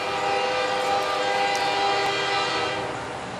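NS 738 locomotive running with a steady, loud horn-like tone held throughout, over continuous rolling rail noise with no voices.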